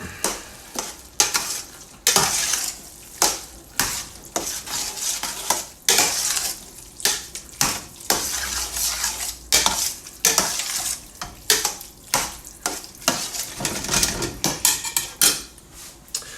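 A bolognese sauce for lasagna is stirred in a pot, with repeated scraping strokes of a spoon against the metal and a faint sizzle beneath, steady and close with no talking.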